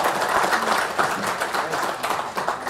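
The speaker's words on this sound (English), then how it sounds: "Please give yourself a round of applause." An audience at a veteran and small business trade show claps steadily, a dense, even wash of applause that carries through the whole stretch without letting up.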